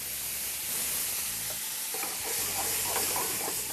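Garlic and masala frying in a pan, a loud continuous sizzle with scraping stirring strokes close by, without talking.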